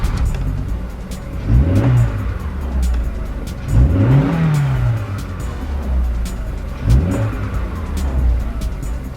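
A high-powered car engine making somewhere between 600 and 700 horsepower revs loudly and close by three times, each burst climbing in pitch and then falling back to a deep, rumbling idle, with no voices over it.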